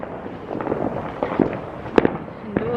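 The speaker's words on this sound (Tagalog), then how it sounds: "Everywhere the fireworks, guys." Independence Day fireworks crackle and pop around a Utah neighbourhood at a moderate distance, a scatter of sharp bursts with a couple of louder bangs near the end, with faint talk in the background.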